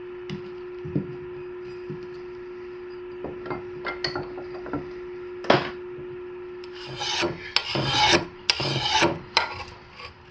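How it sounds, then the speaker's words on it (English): File rasping along the edge of a throwing axe, at first in sparse light scrapes and then in louder, faster, closely spaced strokes near the end, close and alone. "See what kind of edge I can get on this axe once I'm done filing."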